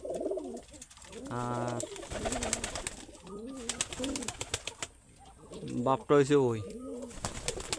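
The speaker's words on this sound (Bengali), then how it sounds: "ঠিক আছে, মানে ভালো একজোড়া গিরিবাস।" Giribaz pigeons give repeated throaty cooing calls, close and clear, with someone speaking between and over the coos.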